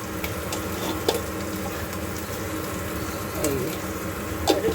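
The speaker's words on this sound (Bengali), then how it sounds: "আলুর তরকারিটা একটু ভাজা ভাজা করে করছি আর কি।" Potato curry fries in a pan with a continuous sizzle, and occasional stirring scrapes and clinks break through near the middle and end.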